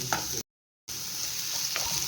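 Small shallots frying in hot oil in a pan for a fish curry, a soft steady sizzle with light stirring; a short silent gap breaks the sound early on.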